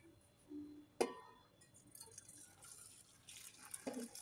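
Boiled luo han guo juice, now brown, is poured from a vessel into a pot in a home kitchen. A faint liquid trickle and splashing follow a sharp metallic clink, all quiet and close.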